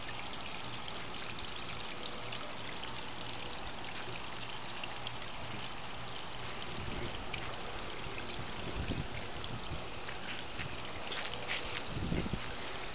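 Water from a homemade DIY backyard waterfall produces a steady, faint, distant wash of flow that stays even throughout, with occasional soft bumps and rustles.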